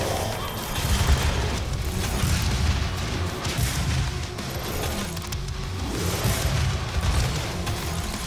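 Rocket launcher blasts and combat in Doom 2016, set in Hell, form a loud, churning wall of booming explosions and mechanical clatter that swells in repeated waves without letup.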